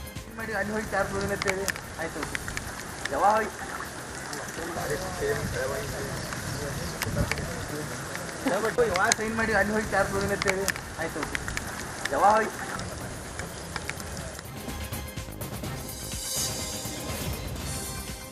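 Torrential monsoon rain falls across Belagavi district in Karnataka, a steady hissing downpour on surfaces that runs under a voice speaking throughout.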